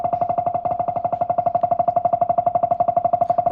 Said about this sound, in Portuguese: esse barulho, ele acontece no teclado geralmente quando o teclado leva água